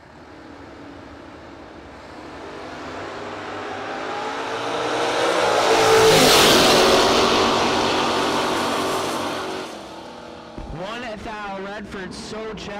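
Drag race cars launch at a no-box race, one of them a third-generation Camaro. Engine roar swells over several seconds to a loud peak, then fades, and a voice follows near the end.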